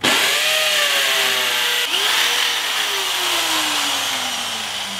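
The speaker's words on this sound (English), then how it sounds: "So next we're punching a hole through the wall." A power drill with a 5/8 masonry bit bores a hole through a concrete block wall, running loud and close with a steady grinding whine that sags and changes pitch as the bit bites, with one brief hitch midway.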